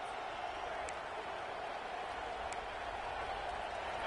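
Steady roar of a stadium crowd at a Clemson vs Michigan college football game, a dense continuous wash of cheering and noise with no clear breaks.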